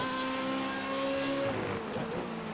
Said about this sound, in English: Braking into this turn, second gear, and a nice clean getaway.